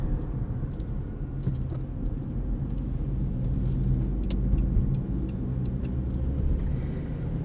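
A 2004 Honda Civic Hybrid drives along, its cabin filled with a steady low engine and road rumble that swells slightly in the middle, with no voices.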